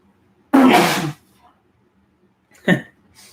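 A single sharp, breathy sneeze bursts out close by, followed by a brief quieter catch of breath a moment later.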